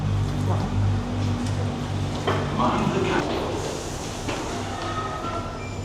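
A London Underground train rumbles in a confined space with rolling wheel noise and low mechanical hum, while a voice speaks briefly over it.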